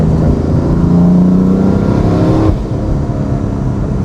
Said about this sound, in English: the fact that you hear the turbo noise all the time is kind of addicting.